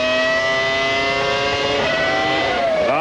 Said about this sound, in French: Quel talent, notre Alesi, avec la modeste Sauber, ce moteur Ferrari client, ancienne génération